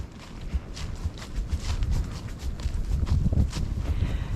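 A horse walks steadily, its hooves falling in a loose, even clip-clop rhythm over a low rumbling background, moderately close and with no talking.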